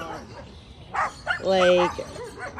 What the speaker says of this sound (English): There's like a whole gang of dogs over there